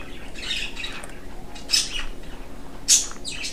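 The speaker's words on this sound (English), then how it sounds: "Listen to the beautiful birds chirping in the sunlight." Birds chirp and squawk in sunlight in a Minecraft-style video game, a few short bright calls spaced apart over a quiet background.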